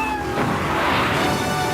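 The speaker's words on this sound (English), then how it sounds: "Rescue a cat out of that tree with your banana cannon, Pogo." A cat meows in a Pogo the Monkey radio advert from Grand Theft Auto III, a single drawn-out wavering cry that rises and falls over a busy backing of music and effects.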